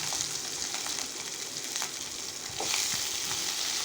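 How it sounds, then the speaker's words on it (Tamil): Tomato, curry leaves and green chillies sauté in a hot pan with a steady, close sizzle and occasional stirring scrapes, with no voices. "பச்சை மிளகாய் 2 போட்டுக்கலாம். இது நல்லா வதக்கி எடுத்துக்கலாம்."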